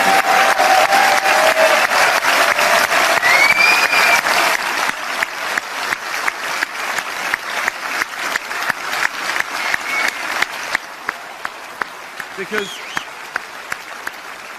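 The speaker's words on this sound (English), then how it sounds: "let's give them a huge round of applause" A crowd at a Brexit rally in Southport applauds, a loud dense roar of clapping that thins midway into a rhythmic unison clap, slowing and fading to scattered claps with a few voices near the end.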